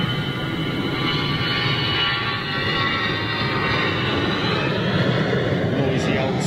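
A loud, steady jet engine roar fills the whole clip, broad and sustained like an airliner close by on the ground.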